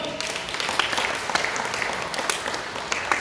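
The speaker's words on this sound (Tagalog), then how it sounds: "Palakpakan po natin ang Panginoon." Church congregation applauding, dense scattered handclaps with sharp individual claps popping out of a steady roomy wash, sustained at a moderate level throughout.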